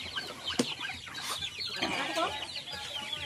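A hungry farm chicken, kept apart from the faster flock, clucks for food in a steady run of close, fairly loud clucks over outdoor background noise.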